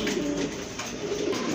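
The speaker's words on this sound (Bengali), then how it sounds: "শার্টিন কবুতর এমনিতেই কিউট" A pair of satin pigeons gives soft, low cooing, half buried in a steady broadband hiss and market bustle over a short stretch.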